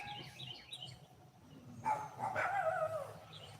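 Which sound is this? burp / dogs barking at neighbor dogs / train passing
dogs barking at neighbor dogs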